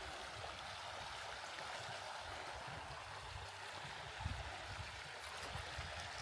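A stream flowing beside a hiking trail in a state park, a steady soft rush of water heard alone and close, with no voices.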